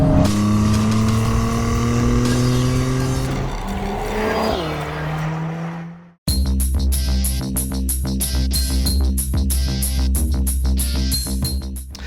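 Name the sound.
Mercedes-AMG A45 S driving on track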